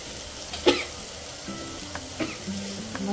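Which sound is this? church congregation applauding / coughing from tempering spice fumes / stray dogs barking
coughing from tempering spice fumes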